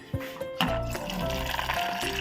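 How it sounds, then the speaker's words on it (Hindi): Water is poured into a container at home, giving a short gurgling fill with rising liquid tones and a few clinks, close and fairly loud, with no speech. "अब मैं इसमें भी थोड़ा सा पानी डाल दूँगी।"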